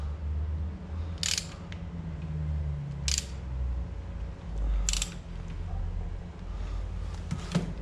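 Three crisp bursts of ratchet clicks tighten a bolt on a dismantled Ford 1.4 TDCi engine, each short run close and sharp against a low background hum.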